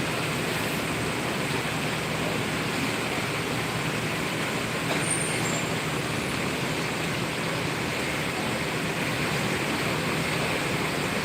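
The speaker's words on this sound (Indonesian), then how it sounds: "Untuk bus-bus jalan masih lancar." Buses and road traffic on the Pekanbaru–Medan route at night, a steady broadband rumble of passing heavy vehicles that holds constant throughout, with no talk.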